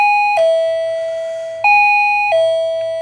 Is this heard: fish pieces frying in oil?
no